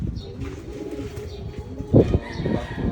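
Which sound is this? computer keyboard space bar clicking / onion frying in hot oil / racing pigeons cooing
racing pigeons cooing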